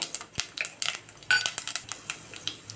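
A metal spoon stirs mustard seeds, chana dal, urad dal and cumin in hot oil for sambar, producing quick close clinks and scrapes against the pan in an irregular rhythm with no talking.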